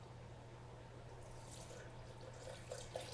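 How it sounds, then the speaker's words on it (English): Broth poured into a cooking pot makes a faint, continuous liquid trickle that sits low against a quiet kitchen background, with no talking. "So I'm going to pour in the broth."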